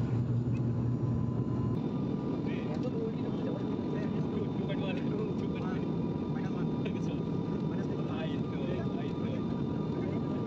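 Steady broadband rumble of a passenger airliner cruising after take-off on a flight bound for Kolkata, a continuous even drone heard from inside the cabin with faint voices murmuring underneath.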